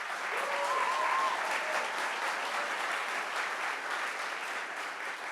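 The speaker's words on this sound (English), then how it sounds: "please give this staff a huge round of applause" A tech accelerator demo day audience applauds the staff with steady, dense clapping from a large crowd, sustained and even for several seconds.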